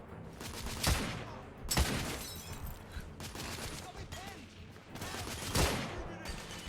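Gunfire from a gun in the video game The Order: 1886, with several loud, sharp shots spaced a second or more apart amid background game noise and talk.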